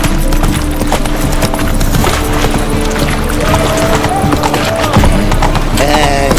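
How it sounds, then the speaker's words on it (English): A horse gallops in The Witcher 3, its rapid hoofbeats clattering steadily up close beneath game music, with voices talking over it. "Run, Roach"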